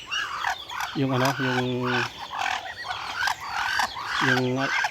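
Ducks quack in short nasal bursts, two clusters of calls a few seconds apart, with softer chirps and outdoor background noise in between.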